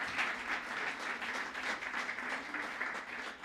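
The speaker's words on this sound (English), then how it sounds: "So let's give them a big round of applause." An audience at Society Hall gives a round of applause, dense steady clapping from many hands filling the room for a few seconds without a break.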